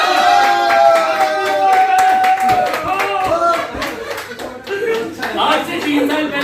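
Audience clapping in a hall during a network-marketing seminar, a dense run of hand claps that holds for several seconds alongside a steady crowd murmur and a voice.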